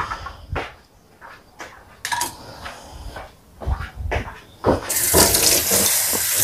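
Dishes and cutlery being washed by hand under a running tap of very cold water, with clinks and clatters over trickling water that turns into a loud, steady gush of the faucet near the end.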